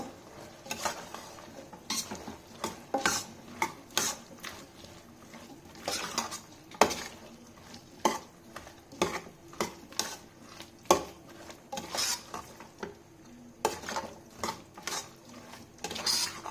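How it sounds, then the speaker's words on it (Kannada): Biryani or garam masala spices fried in a pan for aloo capsicum rice, with a spoon or ladle scraping and clanking against the metal in irregular bursts over a faint sizzle, fairly close and moderately quiet. "ಮಸಾಲೆ ಎಲ್ಲ ಹಾಕಿದ್ದೀನಿ ಫ್ರೈ ಮಾಡಬೇಕು"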